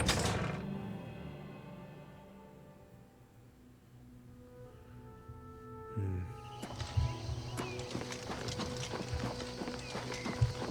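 A horse's hooves clip-clop in the video game Oblivion Remastered, first as a quick fading trot, then growing louder and steady over a bright, busy game backdrop.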